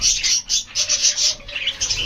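Small birds chirp in quick, repeated high-pitched bursts, fairly close, with no talking.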